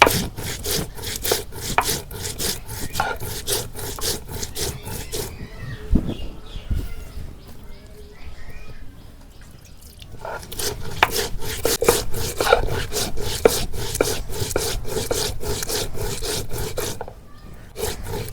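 Cumin and coriander are ground by hand on a stone shil-pata, a steady back-and-forth rasping scrape repeated in close, rhythmic strokes, pausing briefly midway before resuming, with faint birdsong in the background.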